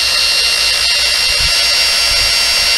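Power buffer with a sponge pad spins fast to throw off coarse-grit compound, a loud, steady high whirr up close with a few brief low thumps, no talking.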